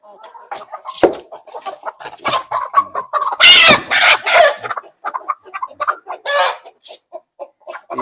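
Hens on a small backyard chicken farm cluck loudly and busily up close, with bursts of agitated squawking and a brief crow breaking through the steady chatter.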